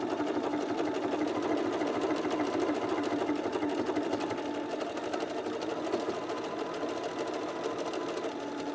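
A sewing machine stitches a buttonhole placket on a pair of pants, running in one steady, continuous whir close by with no talking.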